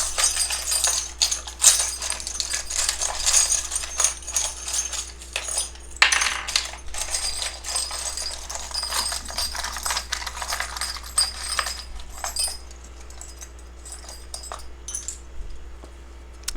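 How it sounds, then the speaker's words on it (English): Small metal charms shuffled around and clinking in a pick-a-card divination reading, a dense, continuous stream of light jingles and clicks at close range for the whole stretch, with no talk. "I just shuffle around until I feel like it's time to take out some charms."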